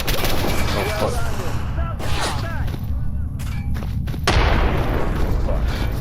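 Grenade blasts and gunfire in the shooter game STALKER Anomaly, a continuous volley of loud cracking shots and heavy booms, with a strong burst midway and rumbling impacts toward the end.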